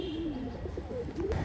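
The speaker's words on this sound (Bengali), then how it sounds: "একজোড়া সাকিরেডি কবুতর" A pair of Sakhi red pigeons coo close by, soft rolling calls repeating several times in quick succession.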